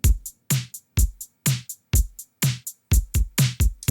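Drum loop recorded in Ableton: punchy kicks and snappy snares trading hits at a steady groove with crisp hi-hat ticks between them, close and dry, slightly uneven timing, with no talking.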